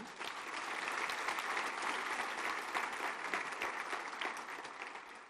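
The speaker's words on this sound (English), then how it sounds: "So let's get a round of applause for them." Crowd at a Making Strides Long Island breast cancer event applauds survivors, a broad, steady wash of clapping heard from a slight distance that holds for over five seconds before easing off.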